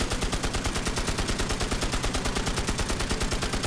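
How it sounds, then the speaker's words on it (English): A big gun in the Magicka video game fires a rapid, even stream of shots, a loud and steady machine-gun rattle that pulses without a break for the whole stretch, with no voices. "See, some big freaking gun."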